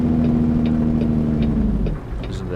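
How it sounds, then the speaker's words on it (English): A truck's Jake brake in American Truck Simulator gives a loud, close, steady low engine drone that cuts off near the end, with soft ticking clicks over the top. "Listen to that Jake brake, man."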